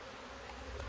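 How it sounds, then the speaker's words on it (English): Honeybees buzz in a dense, steady swarm during a backyard hive inspection, the drone close and continuous, swelling slightly toward the end, with no voices. "Trying to shake off any bees."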